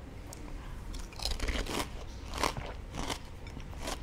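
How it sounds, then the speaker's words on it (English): Crisp crunching bites into homemade pani puri (golgappa) filled with onions, heard up close as a quick series of sharp cracking crunches and chewing, with no talking. "did you guys hear that crunch? That crunch is like unforgettable."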